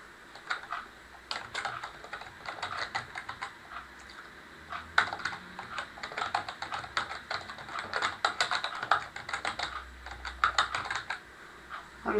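A chart heading is being typed on a computer keyboard, with uneven bursts of crisp clicking keystrokes, some fast runs and some pauses, close and clear against a quiet room.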